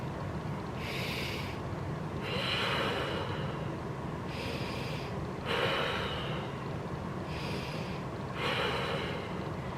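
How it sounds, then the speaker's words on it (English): Slow, deep breaths drawn during a back pain exercise, about six audible inhales and exhales in a steady rhythm, close and breathy, over a constant low background noise. "breathing for about 5 to 10 breaths, as much as you can handle"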